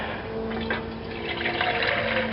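Water pours steadily into a metal mess kit pot for baking, a continuous splashing fill with a faint ringing tone from the pot. It is close and fairly loud, with no talk.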